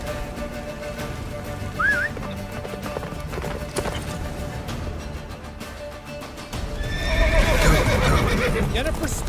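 In The Witcher 3, the horse Roach whinnies and gallops through a blizzard. Rhythmic hoofbeats and a high neigh sit under a busy game soundscape of wind, music and talking voices, and the sound grows louder and denser toward the end.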